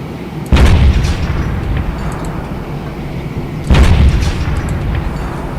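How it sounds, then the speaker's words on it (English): Airstrike explosions in the video game Teardown: two heavy, loud booms about three seconds apart, each a sharp deep blast that leaves a rumbling, crackling tail over a steady background roar. "So there's the airstrike."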